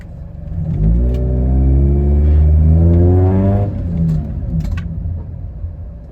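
Motorcycle engine at idle, then dropping into gear and accelerating hard with a rising rev sweep over about three seconds before easing back to a lower running note, loud and close.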